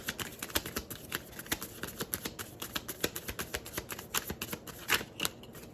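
Tarot cards are shuffled steadily by hand, producing a close, continuous run of crisp riffling slaps and flicks at a fairly even rhythm.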